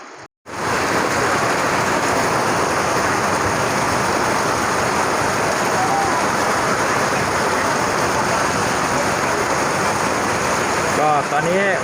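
Heavy rain pours steadily onto an open-air Thai market, a dense continuous hiss close by with brief gaps at the start and end.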